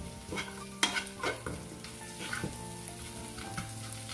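Crispy fried puti fish are tossed with fried onions in a pan, giving a soft, steady sizzle broken by repeated scraping stirs and a few clanks of the spatula, with no talking.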